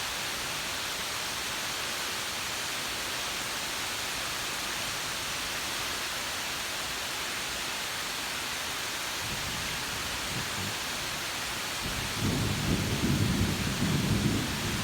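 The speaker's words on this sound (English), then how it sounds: "Try and get the thunder." Heavy rain pours down in a steady, dense hiss, while rolling thunder rumbles low beneath it and swells louder in the final few seconds.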